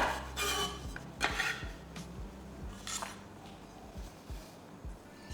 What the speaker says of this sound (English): Cut the top of the stems off the French beans.